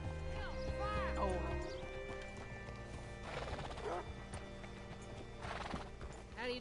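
Horse hooves clip-clop beside loud whinnying neighs in the Red Dead video game, the neighs rising and falling over steady hoofbeats, while a game character speaks faintly in the background.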